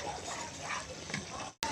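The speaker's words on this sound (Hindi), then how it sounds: "तो यहाँ पे इसमें पानी शामिल करेंगे ताकि अच्छे तरीके से बीफ गल जाए" Water is poured into a pan of frying beef karahi, a close, rushing splash over sizzling that runs almost continuously before a short cut.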